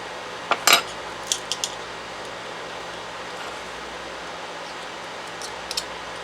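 Teaspoons clink against a container while Better Than Bouillon paste goes into water for turkey noodle soup, a cluster of light metallic taps early on and two faint clinks near the end over a quiet kitchen hum.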